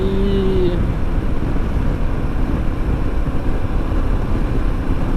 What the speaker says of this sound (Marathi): मी 4000 RPM ला गाडी आणि 80च्या स्पीडला आहे गाडी